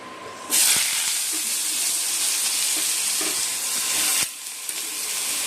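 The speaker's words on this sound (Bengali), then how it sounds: "কড়াইতে তেল বসে গরম হয়ে গেছে এবার আলুগুলো ছেড়ে দেবো" Potatoes drop into hot oil in a wok and burst into a loud, close sizzle that holds steady as a dense hiss, with a brief clatter near the end.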